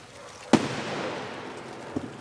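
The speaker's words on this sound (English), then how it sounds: "We got fireworks blowing up everywhere." Fireworks bursting on New Year's from a front porch in Texas: one sharp near bang, a rumbling tail, then a fainter second pop, with no voices.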